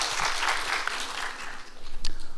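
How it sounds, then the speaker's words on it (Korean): An audience claps at a presentation on the excavation of a Silla princess's tomb at Jjoksaem Tomb 44 in Gyeongju, a brief wash of applause that swells slightly toward the end. "다 한 박수를 한번 쳐주시면."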